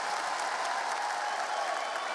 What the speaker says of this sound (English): And Kerrigan getting the clap going, getting the crowd into it.